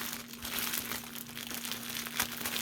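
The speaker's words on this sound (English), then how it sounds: "It comes in a plastic, so I'm going to cut this up." Plastic wrapping around a panettone loaf crinkles and rustles steadily as it is cut open, a close, continuous crackle with one sharper crunch near the end.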